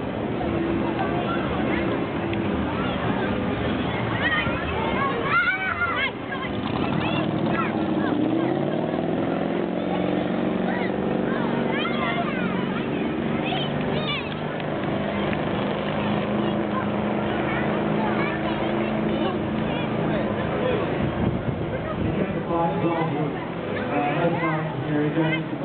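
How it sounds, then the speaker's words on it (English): A 1962 Simmonds wooden ski boat motors steadily across open water, its engine drone continuous and fairly close throughout, with someone talking over it for most of the stretch. "She was built about 1962. I believe to be one of Norman Buckley's boats."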